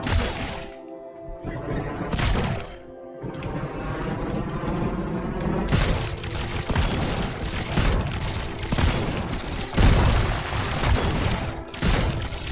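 Repeated heavy booms and blasts from a six-cannon vehicle in the video game Trailmakers fire in quick succession, loud and close, forming a continuous barrage of cannon fire and explosions.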